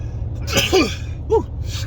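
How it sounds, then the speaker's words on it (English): A close, sharp sneeze with a quick breathy intake, followed by a short vocal catch, over a low background hum. "oh, I'm about to sneeze"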